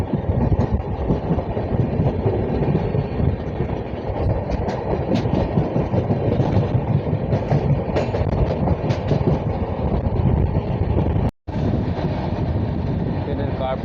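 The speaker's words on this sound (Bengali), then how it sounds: "রকেটের মতো করে পার হচ্ছে ট্রেনটা" Long-distance passenger train on the Coochbehar to Kolkata route racing through Falakata station, a loud, steady rumble of wheels on rails with rattling carriage noise close by, a brief dropout near the end, and a voice speaking over it.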